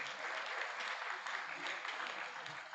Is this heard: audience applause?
yes